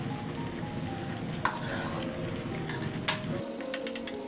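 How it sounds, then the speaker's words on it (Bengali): Fish simmering with Malabar spinach in a pan gives a steady, soft sizzle and bubbling, with a couple of sharp clinks partway through and a few light taps near the end; nobody speaks. "পুঁই শাক দিয়া এই যে এই মাছ রান্না করতেছি"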